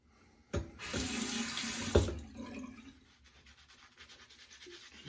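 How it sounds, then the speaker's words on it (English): Tap water gushes from a faucet to wet a badger shaving brush, a steady close hiss lasting a couple of seconds before easing into a softer trickle, with no talk. "Just trying to hydrate the lather a little more with some water."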